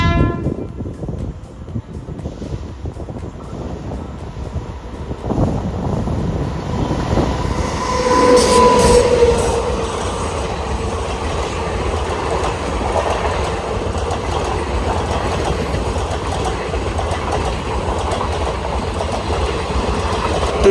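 The Thiruvananthapuram–Secunderabad Sabari Express passes on Kerala's Ernakulam–Thrissur line in a loud, sustained rumble of wheels and carriages, with a short horn-like tone and squeal about midway before the steady clatter continues.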